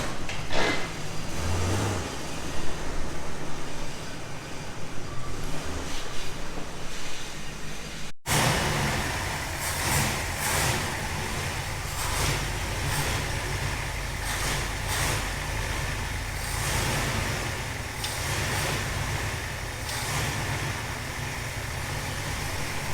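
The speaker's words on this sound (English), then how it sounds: "This will be the first time this truck has driven under its own power." A 1971 Ford F100 pickup's engine idles and then revs as the truck pulls away, a steady rough rumble that grows louder and busier midway through.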